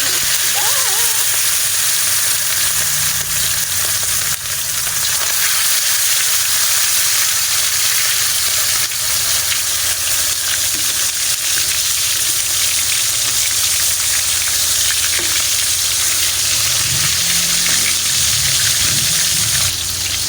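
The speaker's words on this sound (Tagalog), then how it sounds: "Ipiprito ko lang siya para hindi siya madurog mamaya pag niluto ko na." Lamarang fish fries in hot oil in a pan, giving a loud, steady sizzle and crackle that runs throughout at close range. Occasional quieter voices and kitchen noises sit under the frying.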